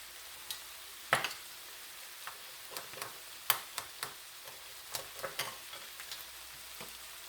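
Broccoli rabe frying in a pan with sausage for a pasta dish, with soft steady sizzling and scattered sharp ticks and clacks as the greens are stirred and tossed, fairly quiet and with no voices.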